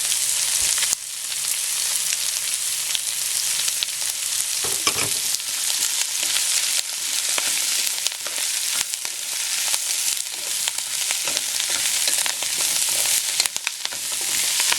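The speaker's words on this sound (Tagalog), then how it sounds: "haluin po natin mabuti" Celery and rice noodles (bihon) being stirred while frying in a pan, a loud continuous sizzle with scraping stir strokes throughout, close up and with no talk.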